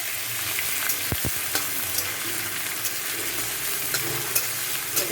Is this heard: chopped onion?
yes